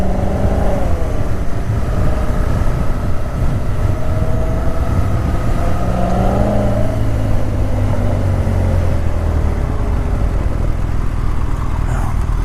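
A V8 car engine drones steadily from inside the cabin while driving on a commute, a loud continuous low rumble with gentle rises in pitch as it accelerates and shifts.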